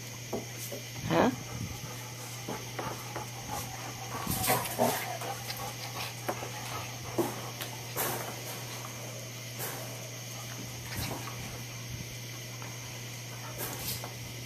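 Dogs in a kennel room whimper and pant in short, soft bursts over a steady mechanical hum, with occasional louder yelps and a person talking to them.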